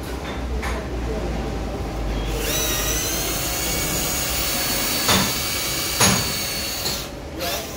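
An expanding steel-blade reamer boring out a front axle bushing gives a sustained high whining grind, loud and close with brief surging bursts, while someone talks over it.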